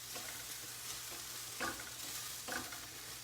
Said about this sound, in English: I'm just gonna give that a good stir